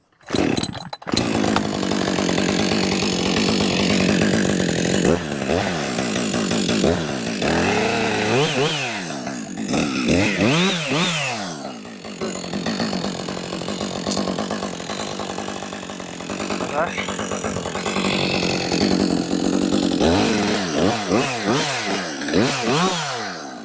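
A chainsaw roars steadily nearby, its engine rising and dipping as it cuts a felling notch in a dying ash tree, with brief pauses and pitch swings throughout.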